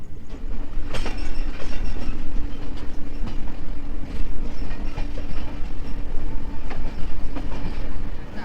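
Jagannath Express passenger train from Puri to Shalimar rolling along the rails, a loud continuous rumble with rhythmic wheel clacks and rattling carriage noise throughout, no voices.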